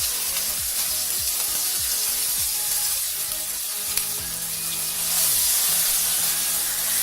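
A spice paste for methi malai paneer fries in a pan, producing a loud, continuous hissing sizzle that swells slightly toward the end.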